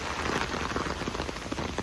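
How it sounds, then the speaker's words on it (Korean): Autumn rain falling outdoors on the way to church, a dense, steady patter of drops on surfaces, continuous and fairly faint, with no voices over it. "지금 이렇게 비가 추적추적 오고 있습니다."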